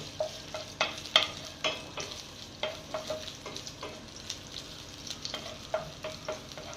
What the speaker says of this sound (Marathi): आता हे छानपैकी तापलं ना की आपण ह्याच्यामध्ये आलं लसूण जे चेचून ठेवलेलं होतं